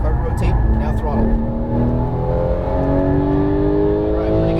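Porsche 911 GT3 of the 991 generation on a track, engine note rising steadily under throttle as revs climb, loud and close from the cabin with an instructor talking over it.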